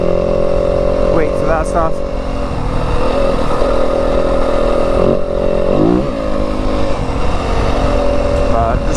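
A Yamaha WR250F dirt bike rides through the Arizona desert, its engine a steady loud drone with a few quick revving swells, while someone talks briefly over it.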